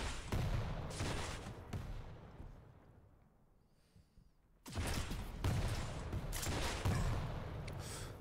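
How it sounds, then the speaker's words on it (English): Rocket fire and explosions in a competitive Quake Champions duel, heard as loud, dense bursts of blasts that fall away to a quiet lull near the middle, then return at full strength. "That rocket was almost Enesy's life there."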